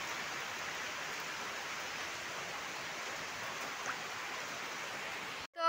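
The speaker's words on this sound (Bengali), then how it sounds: "দেখতে পাচ্ছ পুরো বৃষ্টি পড়ছে।" Steady rain falling outdoors near a poultry shed, an even hissing wash of drops at moderate distance, ending with a short abrupt cut and a brief unrelated sound.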